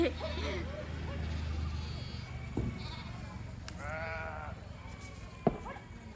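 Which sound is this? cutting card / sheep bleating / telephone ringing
sheep bleating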